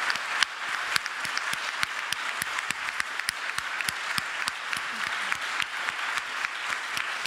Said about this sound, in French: Étienne Klein et à Jean-Marc Jancovici, que je vais vous demander d'applaudir